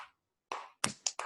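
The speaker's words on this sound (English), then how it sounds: "Let's clap for ourselves." Children clapping for themselves during an online Zoom reading lesson, heard as a few separate bursts of claps through a laptop microphone with short silent gaps between them.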